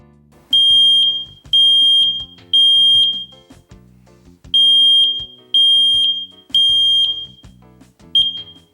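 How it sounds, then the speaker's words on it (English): Smoke detector being tested after installation in a bedroom, sounding a loud, piercing alarm in seven repeated beeps of about a second each with short gaps, with faint low background tones beneath. "Press the test button and test the smoke detector."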